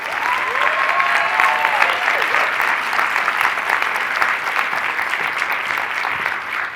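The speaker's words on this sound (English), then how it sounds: "Please give them a rousing applause as we do." Sustained applause from an audience welcoming participants at a live Shark Tank-style pitch event, a dense steady clatter of many hands with faint cheering, holding at even loudness throughout.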